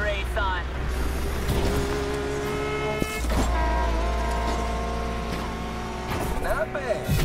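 Racing car engines roaring in Need for Speed, with revving, shifting tones and a sharp impact midway, while a voice talks over the game sound.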